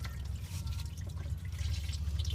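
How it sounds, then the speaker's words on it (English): Motor oil drains out of the oil pan of a Ford Focus in a steady, continuous trickle with light dripping. The flow stays even and close up throughout, with no talking. "now with that draining out, we're just going to let it drain until the oil pan is fairly empty"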